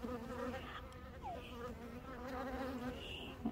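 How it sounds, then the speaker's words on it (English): A honeybee buzzes steadily on and around a phone outdoors, a close, continuous drone with slight pitch wavering throughout, no talking. "Do you see the bee on my phone?"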